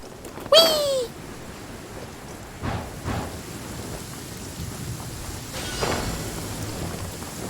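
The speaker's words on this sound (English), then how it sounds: "Taking a stroll in the middle of a downpour certainly rouses the spirit." Rainstorm in the Genshin Impact video game, a steady hiss of rain on the ground with soft rumbles of thunder rolling in several times.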